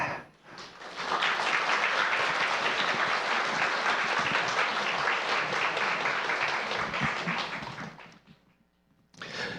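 Big, warm applause from a school audience at a parent-education event greets the newly appointed parents' association president. Dense, loud clapping swells in and holds steady for about seven seconds, then fades away into quiet.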